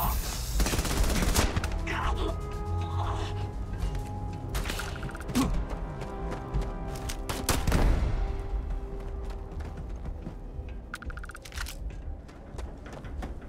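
Gunfire in the video game Starfield, bursts of shots and heavy impacts scattered across the stretch, loud at first and again around eight seconds, mixed with mechanical clanks and game effects.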